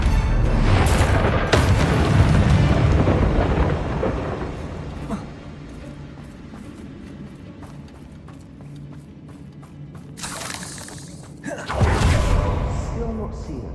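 Confringo blasting spells burst in Hogwarts Legacy, loud booming explosions at the start and again near the end, separated by a quieter rumbling stretch.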